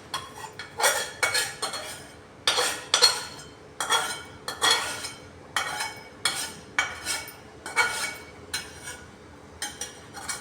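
A metal utensil scrapes stuck food from the bottom of a wok after cooking a mustard potato and eggplant curry, in about a dozen short rasping strokes with small clinks, steady and close, no voices.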